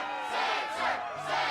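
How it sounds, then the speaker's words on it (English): An arena crowd in the video game Kingdom Hearts 2 cheers and roars in swelling waves, a moderately loud massed shout rising and falling over a second and a half. "Yes, the crowd is fired up"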